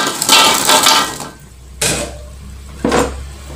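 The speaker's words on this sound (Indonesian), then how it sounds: "Kita cemplungin aja kerupuknya." Hard, dry kerupuk crackers clatter into a pot of mixture in a few separate drops, each a sharp rattling clunk followed by quiet, close and fairly loud.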